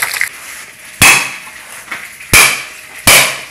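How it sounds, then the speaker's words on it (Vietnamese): Fresh ginger is smashed on a cutting board with three sharp, loud, close thwacks spaced about a second apart, with quiet pauses between. "Gia vị này, gừng này. Dập ra bấm nhỏ."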